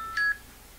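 Phone message notification, a single short electronic beep that fades quickly, close and clear in an otherwise quiet room.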